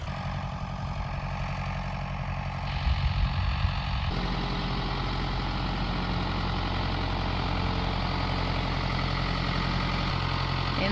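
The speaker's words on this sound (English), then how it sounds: "he looks a little bit naked. Not Ryan, but the tractor without his bucket" A farm tractor with its front bucket removed idles steadily nearby, a continuous low engine rumble that holds level throughout with a brief rougher surge partway through.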